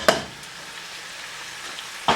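Paneer and ground masala stirred in a hot pan for paneer karahi, with a steady low sizzle between two sharp scrapes of the spoon at the start and end.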